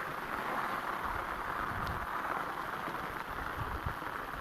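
Rain falls steadily over an open farm field near forested hills, a faint, even hiss with light wind buffeting the microphone and no voices.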